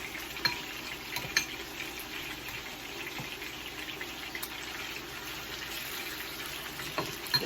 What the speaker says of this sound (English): Give this about another 10 minutes to fry